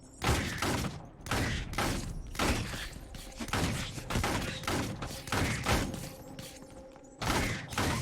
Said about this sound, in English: I'm using a gun now.